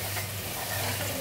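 Garlic paste for avakai pickle being stirred in a hot pan, giving a close, steady sizzle with scraping stir sounds throughout a short stretch.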